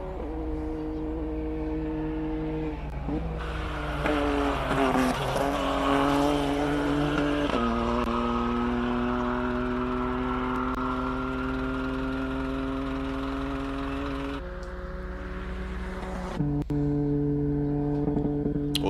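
A race car engine screams at high revs on the Simola hillclimb, climbing in pitch through gear changes with brief drops between shifts, loud and sustained without speech.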